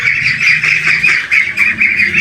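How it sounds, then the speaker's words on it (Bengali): Domestic ducks, both large and small, on a duck farm quack loudly and close in a rapid run of repeated nasal calls that overlap with barely a pause. "এগুলো হচ্ছে আমার পালিত হাঁস, এগুলো বড় হাঁস আর এগুলো হচ্ছে ছোটো হাঁস।"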